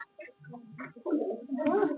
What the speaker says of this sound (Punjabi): ਕਬੂਤਰ ਮੇਰਾ ਇੱਥੇ ਫਿਰਦਾ